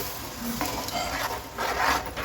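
Stirring egg masala curry with yogurt in a pan, a steady scraping and rubbing of a utensil against the metal with light sizzling underneath, continuous and close.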